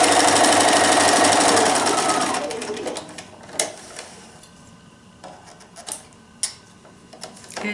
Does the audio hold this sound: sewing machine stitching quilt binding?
yes